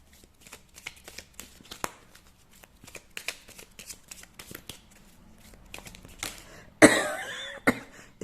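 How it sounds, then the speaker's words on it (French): A person coughs once, loud and close, with a second shorter cough right after, following several seconds of soft, quiet card shuffling. "Je vous ai dit, je vais tousser pendant la vidéo."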